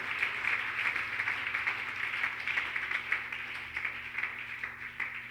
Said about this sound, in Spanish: si hay un aplauso mejor para Él